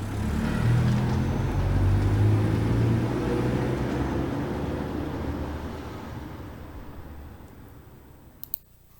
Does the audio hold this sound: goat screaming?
no